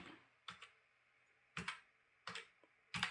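Short bursts of computer keyboard typing while a captcha is entered on a voter ID website, four or five quick clusters of keystrokes separated by pauses, close and quiet in a silent room.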